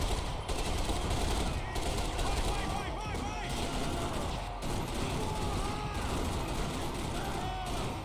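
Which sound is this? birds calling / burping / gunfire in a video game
gunfire in a video game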